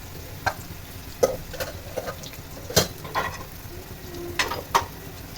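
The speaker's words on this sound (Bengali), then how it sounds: "এবার পটলটা এভাবে ভেজে আরও তিন মিনিট ভেজে এটা কিন্তু ভাজতে সময় লাগে না" Pointed gourd (potol) fries in oil with a steady low sizzle, broken by scattered sharp clinks and scrapes of a utensil stirring in the pan close by.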